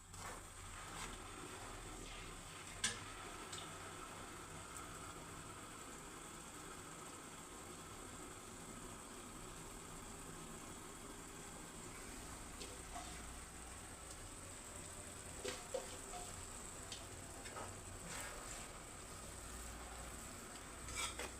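Ash gourd halwa mixture being stirred in a pan, a soft, steady sizzle with scraping and occasional faint clinks of the spoon against the metal, close and quiet throughout.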